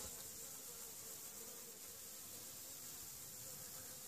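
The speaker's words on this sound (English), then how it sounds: "There the bees are recycling honey." Honey bees swarm in a bee yard around old frames of honey and pollen. They make a dense, steady buzzing hum, close and unbroken, with no voices.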